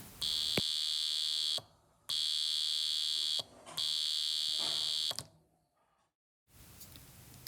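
A piezo buzzer driven by a microcontroller circuit sounds loudly in three long, sustained shrill bursts separated by short silences, followed by a faint click.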